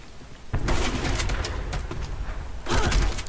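Gunfire in the online shooter Black Squad comes as two loud bursts of rapid shots, one in the first half and another near the end, with game noise between them.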